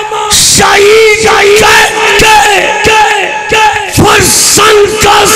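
A crowd at a religious rally roars a slogan back in unison, with loud chanted shouts rising in repeated waves and bursts of cheering, all close and forceful.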